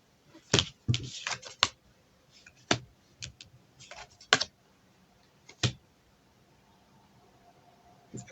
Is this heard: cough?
no